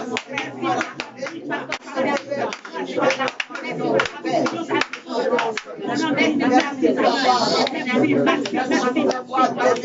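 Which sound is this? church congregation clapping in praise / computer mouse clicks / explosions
church congregation clapping in praise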